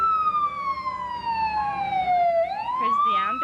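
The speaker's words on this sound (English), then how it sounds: "Here's the ambulance driver, Joy Pritchett Sheridan." Wailing ambulance siren at a small-town parade in Gladstone, Manitoba, a single loud tone sliding slowly downward and then sweeping back up, with steady traffic rumble underneath.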